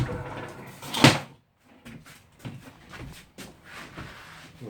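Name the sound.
shed door being shut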